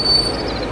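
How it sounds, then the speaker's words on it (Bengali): A moving train shudders to a sudden jolting halt after the alarm cord is pulled, a brief, loud, dense rumble of rail noise with a faint high squeal near the start, heard alone. "পর মুহূর্তে প্রচন্ড একটা ঝাঁকানি দিয়ে চলন্ত ট্রেন থেমে গেল।"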